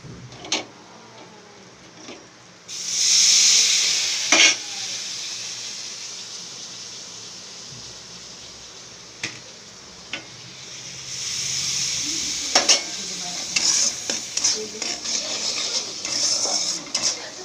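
Sugar and a splash of water go into spices sizzling in a pan for a mixed-lentil tarka, bringing a hissing burst that swells and fades, with scattered clinks of a utensil against the pan.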